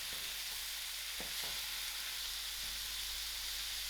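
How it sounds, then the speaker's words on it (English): Cubed calabash (loki) and dried shrimp sizzle softly in a pan as they are stirred, with a steady hiss and a few light scraping strokes. "And thereafter I'm going to throw in a cube loki. Give this a nice mix."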